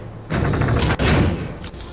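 Gunfire in the Mass Effect video game erupts as a dense burst of loud, rapid shots and thuds, with a sharp crack near the middle and a few more hits near the end.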